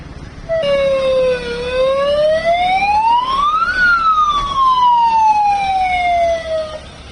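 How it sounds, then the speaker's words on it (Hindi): A loud wailing warning siren sweeps slowly up and then back down in pitch, sounding alone and close for several seconds amid India–Pakistan border tension in Jammu and Kashmir. "जैसे ही सायरन की आवाज सुनाई देती है, अपने घरों के अंदर चले जाएं।"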